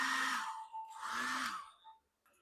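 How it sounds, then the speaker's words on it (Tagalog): A heat blower aimed at the pegs of a Yolopark Evangelion Test Type 01 AMK PRO plastic figure gives a steady close hiss of rushing air with a faint whine, cut by a brief pause partway through and stopping near the end. "painitin lang natin to ng blower"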